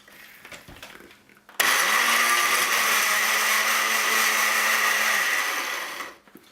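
Kitchen blender whirring through garlic and oregano for tortilla soup, switching on abruptly with a loud steady motor whine that holds for about four seconds before winding down and cutting off.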